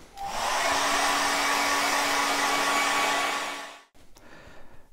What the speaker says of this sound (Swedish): Varför jag körde hårtork på det här nu